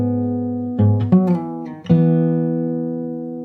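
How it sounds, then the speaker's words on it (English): Fingerstyle guitar plays a short fill from a song: a sustained low chord, then a quick run of three or four plucked notes, ending on a ringing chord that fades, played solo and close. "So this part with the fill sounds like this"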